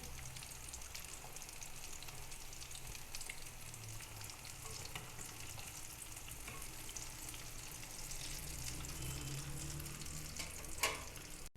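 Chicken shami kababs with raw potato sizzle in oil over medium heat, a steady crackling fry with light stirring and small pops running continuously at moderate level.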